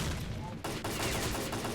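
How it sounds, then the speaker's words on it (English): Gunfire at a construction site in S.T.A.L.K.E.R.: Clear Sky cracks out in loud, dense bursts that break in abruptly and keep going as a rapid, overlapping fusillade. "So we will receive a lot of gunfire here."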